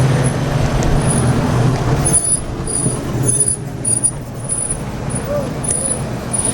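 Congested traffic with trucks and buses crawls toward Bromo, a heavy, continuous rumble of idling engines close by, with hissing air brakes and scattered high squeals, and people talking over it.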